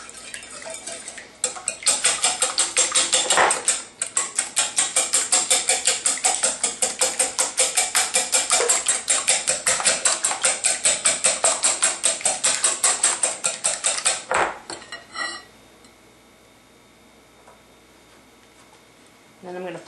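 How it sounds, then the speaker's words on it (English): A whisk beats eggs in a bowl for lemon curd, a fast, steady rattling clatter of metal against the bowl for about thirteen seconds before stopping abruptly, followed by quiet. "First I'm going to whisk the eggs."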